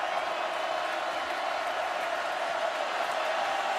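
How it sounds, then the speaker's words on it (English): A large Alabama stadium crowd at the 2011 BCS National Championship against LSU gives off a steady, dense roar of cheering that holds at an even level throughout. "His presence coming back out will get a reaction from the Alabama crowd"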